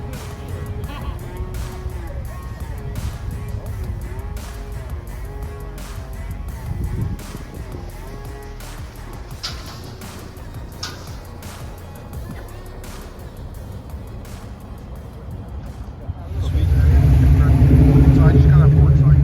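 A Ford Mustang Foxbody convertible at a club car meet rolls in under crowd chatter and talk, then its engine swells into a loud, close, steady rumble over the final few seconds.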